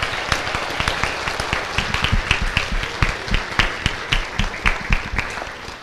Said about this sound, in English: Stand up and give those folks a round of applause.